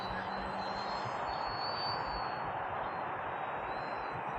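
FMS Super Cub PA-18 1300 RC model plane flying low and slow, a steady thin electric motor whine with a faint shifting pitch held evenly at moderate distance throughout.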